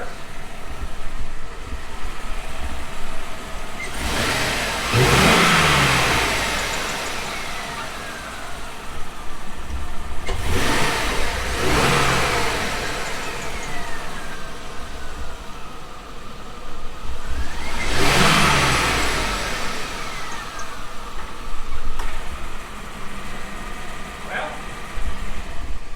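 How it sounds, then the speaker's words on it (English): A GMC truck engine idles under a steady rumble and is revved three times, each rev a loud rising surge that falls back to idle, with a person speaking at times. "slide under here and I'll rev it up"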